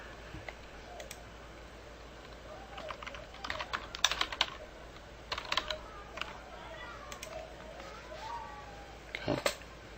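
Light, quiet clicking on a computer keyboard as a project template name is typed in database software, coming in short scattered bursts with pauses between them.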